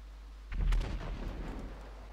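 A tank cannon in GTA 5 fires one heavy, booming shot up close, with a low rumble rolling on after the blast.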